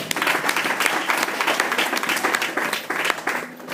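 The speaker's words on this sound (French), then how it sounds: "Est-ce qu'on peut acclamer le Seigneur?" A church congregation breaks into sustained applause to acclaim the Lord, a dense, steady wash of many hands clapping close and loud throughout, with a few voices mixed in.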